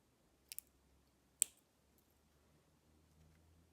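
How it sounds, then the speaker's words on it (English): Wire cutters trim the tail ends of craft wire on a handmade wire cuff bracelet. Two crisp, close snips sound against a quiet background, the first a quick double click and the second a single sharp cut. "I'm just going to trim off those tail ends."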